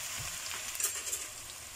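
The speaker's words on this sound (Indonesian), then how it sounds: "Aku goreng dulu tempenya." Tempeh sizzles and crackles steadily in hot oil in a pan, a dense continuous frying hiss with a few brief louder pops, close and alone without talk.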